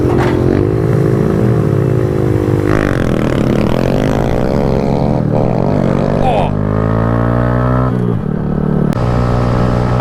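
Honda Grom and Kawasaki Z125 mini motorcycles ridden hard with engines held near the top of the rev range, pitch rising and dropping through downshifts, loud and close with steady engine drone throughout.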